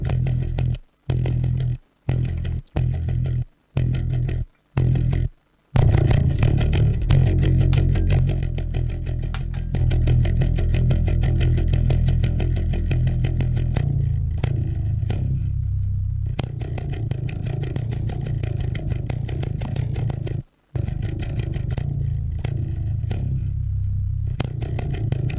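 Bass guitar played through a Cali76 compressor and a DemonFX Harmonic Booster pedal, heavily distorted: a few short plucked notes with gaps, then a long sustained, fuzzy, saturated tone that dips briefly near the end.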